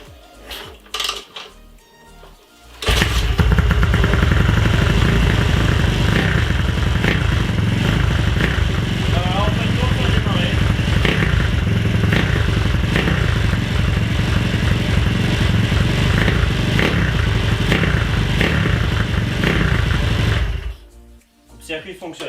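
A Dax motorcycle engine starts after a few quiet seconds and runs loud and steady for about eighteen seconds with a rapid rattling idle, then cuts off near the end.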